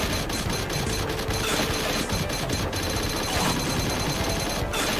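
Rapid, dense gunfire from the 1993 Alien 3: The Gun arcade game, a continuous clatter of shots with crackling bursts that runs unbroken throughout at steady loudness, with no talk over it.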